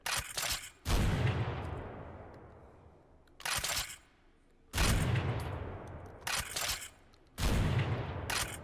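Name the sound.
shotgun firing slugs and buckshot in video game H3VR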